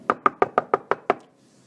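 Seven quick, evenly spaced knocks on a door, sharp and close, followed by a brief fading tail.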